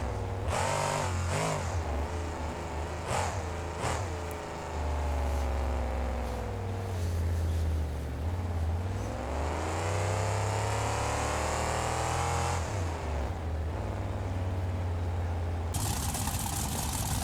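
Monster truck engine in a BeamNG Drive Monster Jam event at Bloomsburg, PA, loud and close, surging through several revs and accelerations with rising and falling pitch and mechanical rattles, alone without talk.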